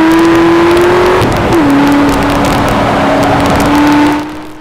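A Corvette ZR1 laps the inside loop at Texas Motor Speedway, its engine droning loud and steady from inside the car, with a brief shift in pitch before the sound fades at the end.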